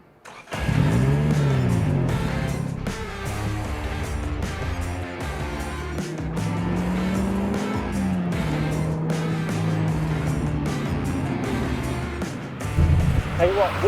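Toyota GR Yaris with a 1.6-litre turbo engine driving hard, its engine drone rising and falling in pitch as it revs and accelerates, steady and prominent from close inside the car, with talk over it.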